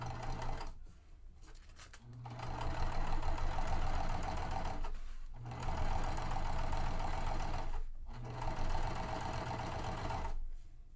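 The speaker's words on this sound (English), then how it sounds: "And I am going to just stitch all the way around." A sewing machine stitches around a tote bag in close, steady bursts of rapid mechanical whirring, stopping briefly three times before running again.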